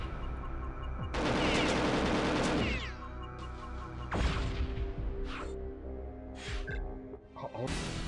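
Rapid bursts of gunfire in the video game Perfect Dark during a Carrington Institute under-attack mission, loud sustained volleys with crashing impacts and scattered shots, no speech.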